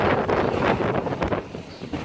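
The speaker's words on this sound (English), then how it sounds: "And the wind's gonna pick up." Outdoor wind on a farm buffeting the microphone in a steady, loud rumbling gust that rises and falls over about two seconds.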